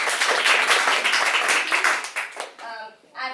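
Lively audience applause at a Success Club talk, loud and close, thins out into a few scattered claps as a voice begins speaking at the end.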